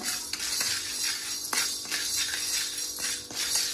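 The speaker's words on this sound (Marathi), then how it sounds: "बघा चणे पण चांगले भाजले आहेत, त्याचा आवाज होतो, फटफटाचा आवाज येतोय" Chickpeas dry-roasting on a hot griddle give off scattered sharp pops and crackles over a steady sizzling hiss, with no voices.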